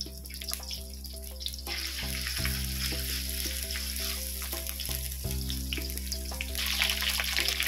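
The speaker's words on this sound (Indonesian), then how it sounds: "kita nak goreng dulu kita punya katak nih" Frog meat fries in a generous amount of hot oil, a continuous close sizzle and crackle with occasional stirring scrapes and a steady background hum.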